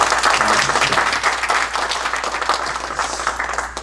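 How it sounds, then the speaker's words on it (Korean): Thank-you applause from a church congregation at the opening worship service of a missions training school in South Jersey, a dense, steady clapping lasting the whole stretch, close and loud with no talk over it. "우리 한번 다시 한번 격려의 박수"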